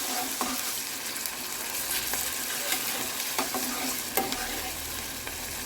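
Brinjal and tomato frying in a pan, a steady broadband sizzle with scattered stirring clicks and scrapes throughout, close and fairly loud, with no talking.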